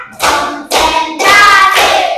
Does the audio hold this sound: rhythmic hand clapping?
yes